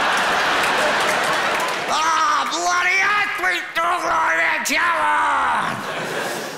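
A comedy club audience at a live stand-up show claps and cheers loudly, a broad crowd roar that carries on while a voice shouts and bellows over it for several seconds.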